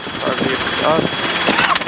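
A Robinson R helicopter engine drones through a training flight, a steady close hum with rotor vibration, while a person talks over it.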